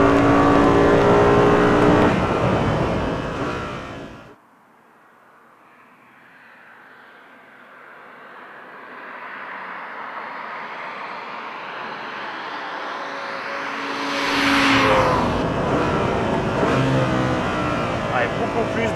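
An Audi R8 GT on a race track, its engine roaring loudly, falling to a lower drone, then building and surging again as it accelerates, with someone talking over the start.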